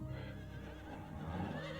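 A horse whinnies in the video game Stoneshard at a place with horses and a stable, one long, loud, wavering neigh that fills the moment.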